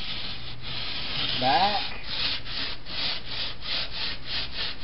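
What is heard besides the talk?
rasping fresh cut edge of drywall sheetrock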